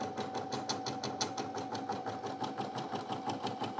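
A Brother PE900 embroidery machine runs a regular stitch with a continuous, rapid, even mechanical chatter and a steady whine, close and alone throughout.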